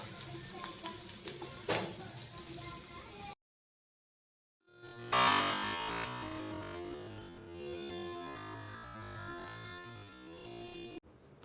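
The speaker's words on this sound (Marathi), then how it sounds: "फ्लेम स्लो करूया. मला 10 मिनटं इथून तिथून शिजून घ्यायचं आहे व्यवस्थित." Bitter gourd slices sizzle and fry in a pan over a slow flame in a home kitchen, a steady crackle with stirring, broken by a short silent gap midway before the frying resumes.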